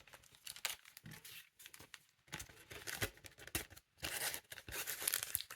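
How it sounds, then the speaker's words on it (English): Small plastic bags are handled and crinkled close up during a watercolour swatch craft session, with bursts of crackling and rustling separated by short quiet pauses. "And I already had some of these little plastic bags."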